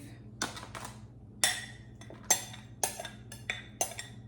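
Ground beef stirred into eggplant cornbread dressing, a spoon scraping and clinking against the dish in irregular strokes over a low steady kitchen hum.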